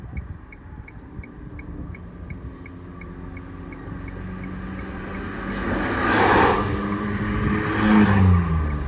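Car pulling away in first gear on a driving-test course, engine note rising and swelling as it moves off, with a soft ticking indicator early on and no talking.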